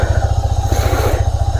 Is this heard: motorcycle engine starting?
yes